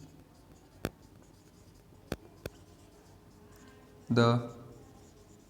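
Pen or chalk writing out a maths equation in a class lesson, a few sharp isolated taps followed by a short spoken syllable over quiet room tone.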